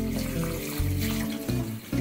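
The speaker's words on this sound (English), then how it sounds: "Let's rinse the pot and pour it into it." Tap water pours into a pot as it is rinsed while cooking, giving a close, continuous rushing splash with shifting gurgling tones over two seconds.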